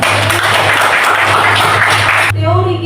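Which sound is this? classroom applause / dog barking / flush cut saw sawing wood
classroom applause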